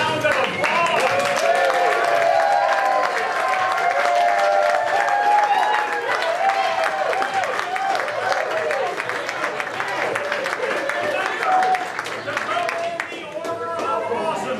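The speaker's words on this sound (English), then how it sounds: "Can we have all of our serious artists rise and give them one giant round of applause?" An audience gives sustained, loud applause with dense clapping and scattered cheers, continuing steadily and tapering slightly at the end, with voices mixed in.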